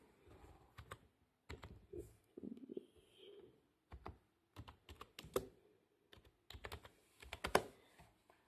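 Fingers type a message on a computer keyboard in quiet, irregular bursts of clicking keys, with short pauses between runs.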